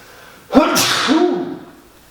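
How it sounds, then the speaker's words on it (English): A single loud sneeze bursts out close by after a quiet moment, followed by a brief breathy trailing sound. "I sneeze into my elbow, don't worry."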